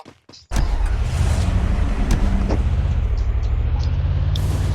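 A vehicle in the battle-royale game Garena Free Fire starts up and then drives with a steady, loud low engine drone that continues to the end.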